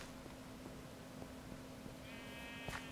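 A sheep in the video game Minecraft gives a single short bleat near the end, rising clearly over a steady low game hum.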